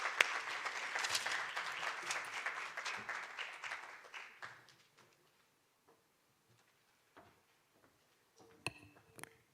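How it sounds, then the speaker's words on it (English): An audience at a university Student Entrepreneurship Week event gives a round of applause, dense clapping for about four and a half seconds that thins out and fades, leaving near silence with a few scattered claps and a clatter near the end. "Can we please give Dr. Mako a very beautiful round of applause?"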